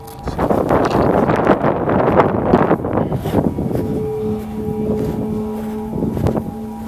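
Strong wind rushes through a dark forest, a loud, close, gusting roar that buffets the microphone and swells and eases without pause.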